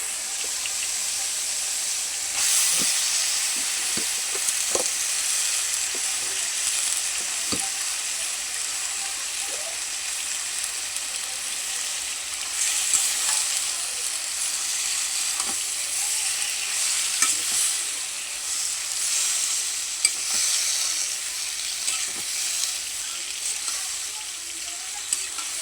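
Greens (Malabar spinach) sautéing in spiced oil, a loud, steady sizzle with intermittent scraping and stirring knocks of a spatula against the pan, close and continuous.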